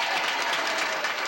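A crowd applauds in a Ponderosa steakhouse TV commercial, a dense, continuous wash of clapping that holds steady and fairly loud with no voices over it.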